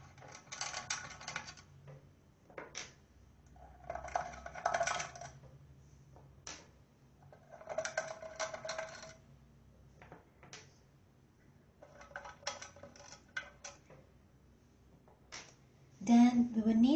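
Screws come out of the applicator cover on a mono mode microwave reactor: bursts of small metallic clicks and rattles recur every few seconds, close and faint, with quiet gaps and a louder clatter at the end.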